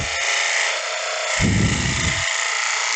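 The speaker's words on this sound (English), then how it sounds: "Claro walnut's hot coming off the lathe" A wood lathe spins a claro walnut bowl with a steady whining motor hum, and a tool cutting into the wood adds a rougher, louder burst midway through.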